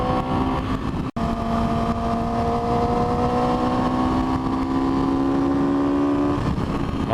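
A 2010 Yamaha R6 sport motorcycle engine holds a loud, steady high-pitched whine that climbs slowly in pitch, briefly cutting out for an instant near the start.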